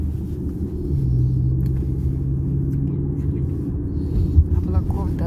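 A tram passes along a Manchester street with a low, steady rumble and a faint tonal hum. Quiet speech and traffic sound around it.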